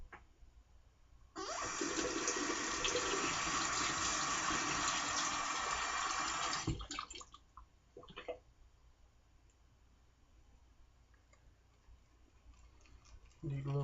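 Tap water runs steadily into a small shaving lather bowl with a loud continuous rush, then shuts off, leaving faint clicks and handling sounds.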